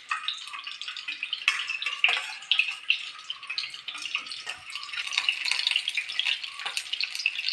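Eggs frying in a pan for egg roast, a dense bright crackling sizzle that runs continuously at close range, with small spatters and scrapes and no speech.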